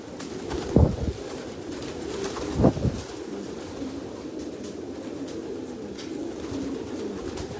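Racing pigeons in a one-loft race setting give two short, low coos, the second a few seconds after the first, against a steady background murmur.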